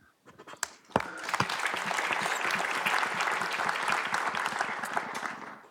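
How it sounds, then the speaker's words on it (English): Audience applause breaks out at a policy conference, a dense and sustained clapping from a large room that starts with a few scattered claps and holds steady for several seconds. "Deserved applause, I think."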